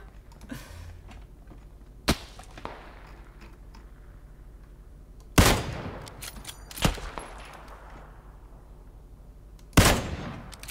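Three sharp, loud gunshots ring out in a PLAYERUNKNOWN'S BATTLEGROUNDS match, spaced a few seconds apart, each followed by a ringing echo tail over faint ambient game noise, plus a softer crack near the start.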